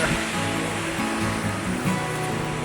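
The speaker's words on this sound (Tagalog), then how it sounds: "Ito ang dagat." Sea waves roll and wash steadily along the boulevard shoreline, a continuous broad surf noise filling the scene with no talk and a faint low rumble underneath.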